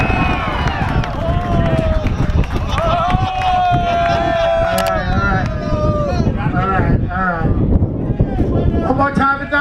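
At a loudest-exhaust car competition, a crowd yells and cheers loudly and continuously, with shouting voices and wind buffeting the microphone.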